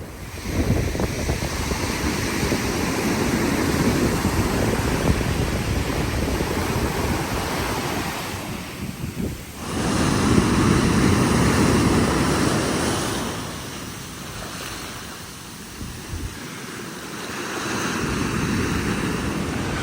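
Cold ocean surf washing in at the water's edge of an Oregon beach on the coast near Coos Bay, a steady broad roar of breaking waves with wind buffeting the microphone, briefly dipping then swelling again.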